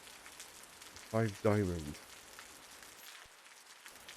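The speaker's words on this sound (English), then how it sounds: "Why is it raining inside my lab?" Steady rain patter falls indoors inside a lab in the survival game Osiris: New Dawn, a continuous hiss running under a short burst of speech.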